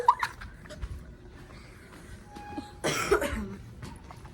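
A single cough bursts out near the end, preceded by faint murmuring and a brief high-pitched squeak.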